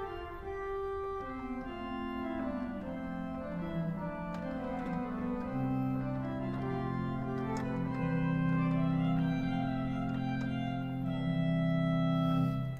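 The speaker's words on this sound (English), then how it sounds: "The sesquialtera can also be used with the flutes, for example, which can sound like this." Pipe organ at Christ Lutheran in Baltimore playing its sesquialtera stop combined with flute stops, a sustained reedy, bright melody over held lower notes, steady and full throughout with no talking.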